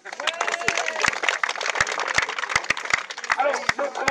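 An audience applauds the Saint-Martin de Soucy en Brie group during a Woodcraft scouting event, with a steady patter of many hands, scattered louder claps and voices chattering underneath.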